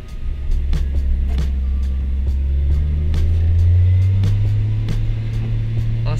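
A Nissan S14 fitted with a tuned 450+ horsepower RB25 engine drives a slow test lap, its low exhaust drone rising gradually in pitch, with interior rattles and clicks and no talking.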